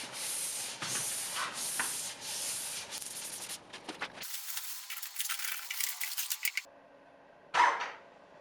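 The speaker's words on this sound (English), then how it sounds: "Super impressed with the finish with that sprayer with the paint." An airless paint sprayer coats furniture with paint, giving hissing bursts of spray in short repeated passes, then a longer steady hiss, followed by a quieter stretch and one sharp clatter near the end.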